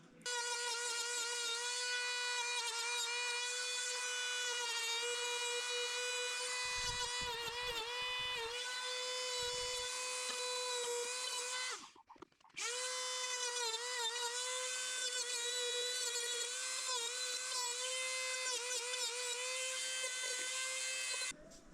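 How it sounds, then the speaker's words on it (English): A high-pitched Dremel rotary tool whines steadily with a strong tonal buzz, cutting an access opening in an RC plane cowl, briefly cutting out near the middle before spinning back up, loud and close. "After using the Dremel to rough out the opening"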